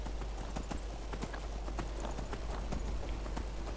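A horse in the video game Skyrim gallops with a rapid, even clip-clop of hooves that carries steadily throughout, close and loud over a low rumbling game background.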